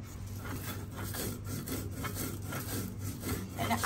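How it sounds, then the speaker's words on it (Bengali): Whole cumin, dried chili and two kinds of mustard seed with ginger and garlic ground by hand on a grinding stone, a steady rough scraping and rubbing in repeated strokes, close and continuous. "শুকনা মরিচ, সরিষা 2 রকম, আর হলো গোটা জিরা এখন বেটে নিচ্ছি।"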